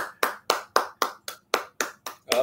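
A single pair of hands clapping steadily, about nine crisp claps in quick even rhythm, close and clear with no voices over them.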